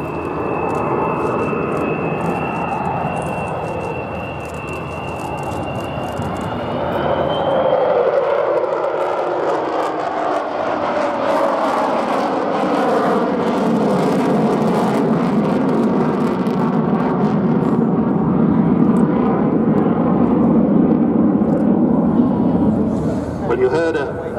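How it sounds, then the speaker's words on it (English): Avro Vulcan XH558 with four Rolls-Royce Bristol Olympus 202 engines at a Duxford airshow, a continuous loud jet roar and rumble swelling as the bomber passes, with a high howling tone early on and someone talking over it. "You heard a hint of the Vulcan howl there, the unique sound made by the 4 Rolls-Royce Bristol Olympus 202 engines"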